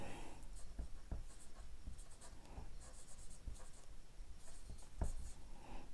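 Quiet strokes and taps of writing on a board while a date is written out, faint scratchy marks with occasional sharper knocks against a low background hum.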